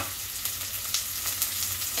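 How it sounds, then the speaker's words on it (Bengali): Onion frying in a pan for a Bengali fish chorchori, a steady soft sizzle with light crackles and no voices. "পেঁয়াজটা একটু ভাজা করে নিচ্ছি"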